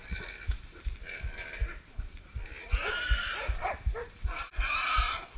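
A dog on a wild boar hunt in Hawaii barks and yips in rough bursts amid thrashing and splashing nearby, with voices shouting in the background.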